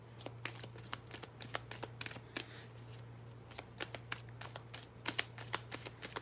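Tarot cards being shuffled by hand in a steady run of crisp riffling snaps and flutters, close and fairly quiet over a constant low hum, with no talking.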